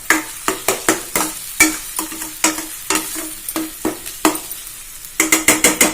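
Raw mango pieces sautéed for mango rice, stirred in a pan with a spatula, rhythmic scraping strokes repeating steadily over a soft sizzle, close up and with no talking.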